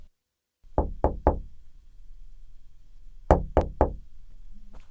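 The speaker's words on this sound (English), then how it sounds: "They knock on the door." Knocking on an office door: a quick set of three sharp raps, a pause of about two seconds, then a second set of three, close and clear in a quiet room.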